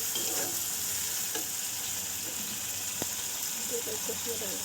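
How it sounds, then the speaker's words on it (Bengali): Potatoes frying with spices in oil in a pan over medium heat, a soft, steady sizzle with occasional light stirring clinks, faint and continuous. "সুন্দর করে কষিয়ে নেব"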